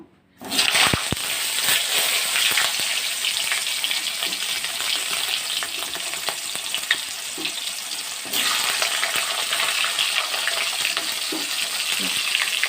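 Vegetables dropped into very hot oil for a fish curry set off an abrupt, loud, continuous sizzle that holds steady with occasional stirring clicks and crackles, no voices over it.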